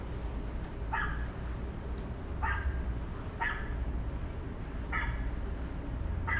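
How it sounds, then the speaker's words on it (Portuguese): A dog barks five times in an evenly spaced series, each short bark clear over a constant low rumbling background, with no one talking. "Vamos ver quem acertou, que falou cachorro. Olha o cachorro."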